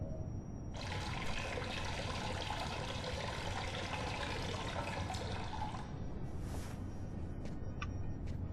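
A shower runs in a bathroom in the video game Fahrenheit Indigo Prophecy, a steady hissing spray of water that starts abruptly, pours on for several seconds, then cuts off, followed by a few faint drips and clunks.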